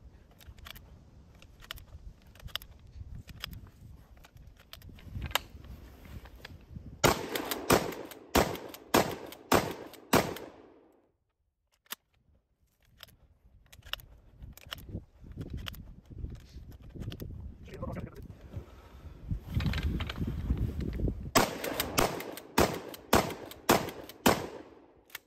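Close, loud shotgun blasts from a G Force GFP3N Pumpernickel pump shotgun firing slug shells, coming in two rapid bursts of sharp reports with quieter handling noise and a brief lull between them.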